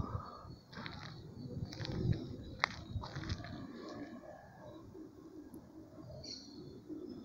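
A flock of homing pigeons released early in the morning and climbing high over a street, heard as soft cooing and bird calls with light fluttering and rustling at moderate distance, and no talking.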